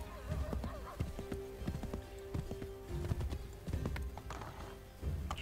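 Horse hooves clip-clop steadily in Assassin's Creed 3, a near, rhythmic run of hoof strikes lasting several seconds with brief pauses, over faint ambient background and no speech.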